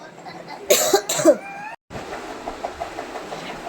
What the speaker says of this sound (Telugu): దగ్గు బాగా వస్తుంది